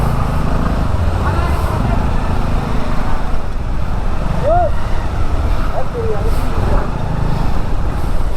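Road traffic stuck in a jam at a closed border crossing on the drive from Nepal to Delhi, a loud continuous engine rumble close by with a short horn toot in the middle.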